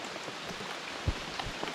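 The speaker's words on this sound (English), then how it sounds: "It's raining now. I mean, it's pouring." Pouring rain outdoors on a fishing trip, a steady close hiss of drops with a few heavier splats and thuds standing out.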